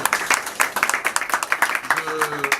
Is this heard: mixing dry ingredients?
no